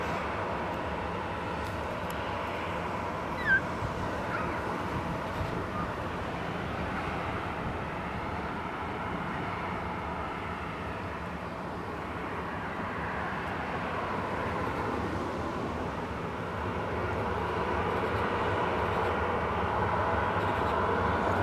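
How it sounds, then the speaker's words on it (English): A Jet2 airliner on final approach at Leeds Bradford Airport makes a steady, broad engine roar and rush that holds throughout and swells slightly toward the end, with no talk over it. "I think the other Jet2 is going to have to go around because he's just on final now"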